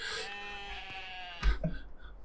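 Sheep in a lamb pen bleat close by, one long wavering bleat followed by a shorter, rougher call, fairly loud over a quiet farmyard background.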